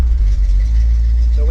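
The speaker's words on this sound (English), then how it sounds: "pump the gas a couple times. There you go, starts right up." A 1972 Chevy C20 truck engine idles right after starting, giving a loud, close, steady low rumble over the whole short stretch, with a voice speaking over it at the end.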